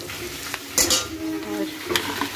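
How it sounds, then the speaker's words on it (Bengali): Onions and green chillies fry with nigella seeds in a kadai as a utensil stirs and scrapes, giving a few sharp clinks over a soft, low sizzle. "কড়াইটাকে কালো জিরে ফোড়ন দিয়ে পেঁয়াজ আর হচ্ছে কাঁচা লঙ্কা দিয়ে একটু ভাজা ভাজা করে নিচ্ছি"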